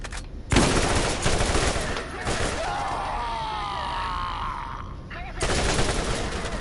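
Bursts of rapid turret gunfire in Borderlands GOTY Edition, loud and dense, with a strained voice or groan mixed into the middle section before the shooting picks up again.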